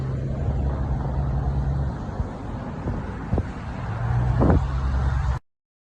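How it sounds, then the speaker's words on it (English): A sheriff's motorboat engine hums steadily through gusting wind noise, with a low droning tone that fades and returns, fairly close and moderately loud. "Sheriff boat."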